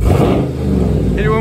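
A Dodge Challenger Scat Pack Hellcat widebody engine gives one hard throttle blip, a loud, deep rev that swells and settles, with people talking over it nearby.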